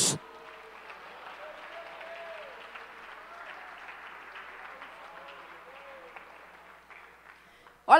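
Congregation applauding during a church service, a steady sustained clapping with some voices mixed in, fairly quiet and even throughout, ending with a louder burst at the close.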